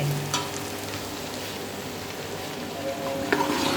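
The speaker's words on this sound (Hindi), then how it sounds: "ये जो कीमा है ये भुना जा रहा है और ये देखिए ये साइडों पे उन्होंने घी छोड़ना शुरू कर दिया है" Minced meat (keema) fries in ghee in a pan, giving a steady close crackling sizzle throughout with occasional sharper pops.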